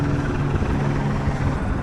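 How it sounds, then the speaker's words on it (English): A helicopter over the Hollywood Hills gives a steady, loud rotor drone with a constant low thrum and broad noise, unbroken from start to finish with no voices. "A helicopter."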